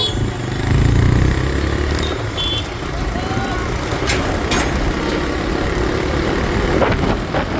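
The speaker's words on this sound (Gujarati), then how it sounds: "બાઇક ચલાવી રહ્યા છે" A motorbike being ridden along a road, its engine droning steadily and loudly throughout alongside traffic noise, with a few brief high beeps from passing vehicles; no talking.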